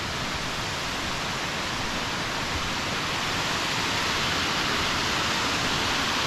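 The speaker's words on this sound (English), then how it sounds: "And this waterfall, Broadtree Falls, is right here." Broadtree Falls, a small waterfall in an Appalachian state park, gives a steady, dense, broadband rush of falling water that holds at an even level throughout, with no pauses or talk.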